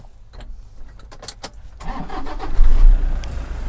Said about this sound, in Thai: เดี๋ยวฟังเสียงเครื่องยนต์นะฮะ ฟังเสียงเครื่องยนต์